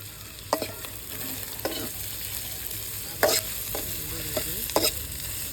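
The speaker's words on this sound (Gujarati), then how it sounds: "હવે નાખી દઈએ શિમલા મિર્ચ, એમાં નાખી દઈએ ગાજર, હવે નાખી દઈએ આ ડુંગળી" Capsicum, carrot and onion fry in hot oil with garlic-ginger paste, making a low continuous sizzle under sharp intermittent clatters and scrapes as a spoon stirs the vegetables around the pan.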